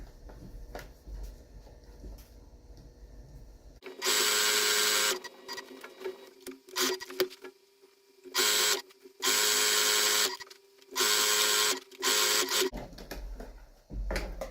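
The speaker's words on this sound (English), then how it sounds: "I'm going to go ahead and stitch right around the perimeter" Domestic sewing machine stitching around the perimeter of a fabric mat with non-skid backing, running in several loud bursts of rapid whirring separated by pauses and quieter handling sounds.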